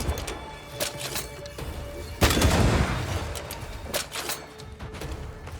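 Gunfire in Banishers: Ghosts of New Eden, a few sharp distant shots followed by one loud, heavy blast with a rumbling tail, then scattered further cracks amid low ambient game noise.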